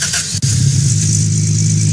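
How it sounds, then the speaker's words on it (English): An engine catches after a short cranking burst and settles into a loud, steady rumbling idle with a faint high whine, heard close up with no talking. "start the engine."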